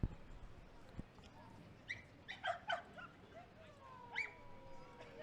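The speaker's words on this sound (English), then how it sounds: "two dogs trying to say hello to one another" Dogs in a crowd at a lacrosse game in a stadium yip and whimper in short, fairly faint bursts over background crowd noise.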